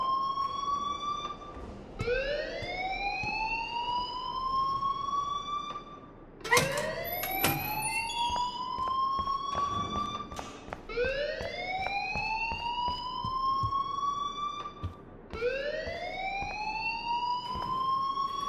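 Alarm blaring in the game Life Is Strange, a loud repeating wail whose pitch sweeps upward in long cycles, each rise lasting a few seconds, with a brief harsh burst partway through.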